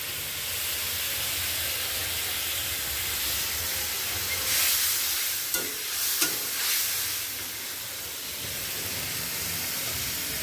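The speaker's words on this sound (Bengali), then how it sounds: "এটার মধ্যে আবার কাঁকরোলগুলো ভাজবো" Pointed gourd pieces fry in hot oil with a steady, even sizzle, broken midway by a few brief louder crackles and hisses, all close and without voices.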